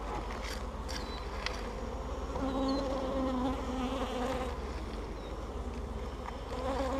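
Honeybees buzzing steadily and loudly at close range during a March hive inspection of a less docile colony, a dense continuous drone with no speech.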